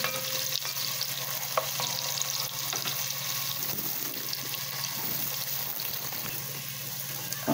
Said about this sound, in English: we're going to let this saute just for a minute before we put in the garlic